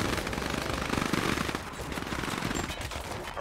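Rifle gunfire in the Command & Conquer 3: Tiberium Wars GDI campaign, fast rattling automatic bursts fired continuously at close range, loud and sustained.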